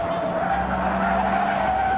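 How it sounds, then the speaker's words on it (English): A 1970s police car's tyres squeal loudly and continuously for about two seconds under hard cornering, with the engine droning beneath the screech. "Tyre squeal from the 1970s."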